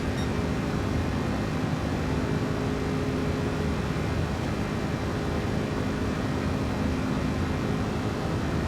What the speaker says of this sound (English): A lot of airplanes waiting for takeoff.